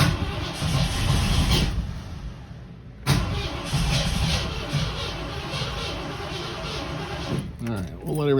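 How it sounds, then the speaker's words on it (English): A 1984 Ford Bronco engine that sat for 20 years runs loudly and roughly up close. It cuts out briefly near the middle, then catches again, with a voice audible over the noise. "I just want to hear it fire one more time."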